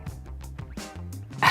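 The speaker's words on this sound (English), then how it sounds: "there's a dog barking over here" A dog barks outdoors in Bali, a few short yaps and woofs in quick succession, fairly close and standing alone without talk.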